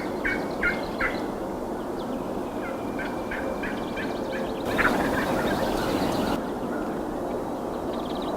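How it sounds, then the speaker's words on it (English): Wild turkeys gobble repeatedly in open spring farmland during a Minnesota youth turkey hunt. The calls are mid-distance, come in several bursts, and rise over a steady outdoor background hiss. "the excitement of calling a turkey in and hearing them gobble back"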